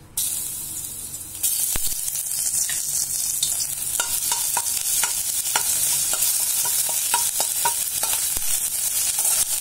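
Ginger and garlic hit a hot pan for chilli sauce, a loud burst of sizzling that settles into a continuous close-up fry with occasional stirring scrapes and no talk.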